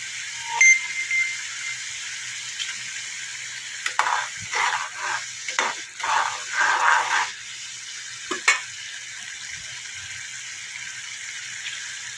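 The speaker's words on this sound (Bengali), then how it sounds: "আর একটু তেঁতুল দিয়ে দিয়েছি, দুটো তেজপাতা দিয়ে দিলাম, মশলাটাকে কষিয়ে নেব।" Masala with tamarind and two bay leaves sautéing in a pan: soft background sizzle, then a cluster of brisk stirring scrapes midway and one more near the end, close and fairly loud.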